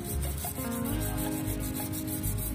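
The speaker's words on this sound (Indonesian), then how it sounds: "Jadi kalian amplas seperti ini" Steady, close rasping of sandpaper rubbed back and forth over the metal CVT pulley bowl of a Yamaha NMAX scooter in quick repeated strokes, with no talking.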